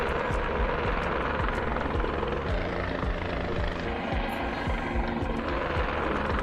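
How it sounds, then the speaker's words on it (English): A Guimbal Cabri helicopter in Microsoft Flight Simulator, with a loud, steady rotor thump and engine drone running without a break, the blade chop rhythmic and close. "Something's faulty with the helicopter"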